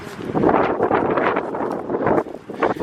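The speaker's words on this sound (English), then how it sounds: "That wind is cold." Cold wind gusts outdoors on a dead, open hillside, buffeting the microphone in loud, rough rumbling bursts that swell and ease over a few seconds.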